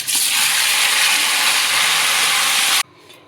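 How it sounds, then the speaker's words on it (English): Tomatoes fry in hot oil with potato and green chili nearby, giving a loud, steady close-up sizzle and hiss that runs unbroken and then cuts off abruptly near the end. "I will fry the tomato a little bits"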